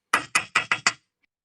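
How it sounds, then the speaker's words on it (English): Five quick, sharp knocks on a door in a kitchen, loud and close, in an uneven rhythm, then silence. "Sounds like somebody at the door, doesn't it?"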